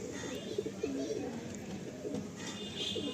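Madrasi pigeons coo softly in repeated low, rolling phrases close by, with faint chirps in the background and someone talking over them.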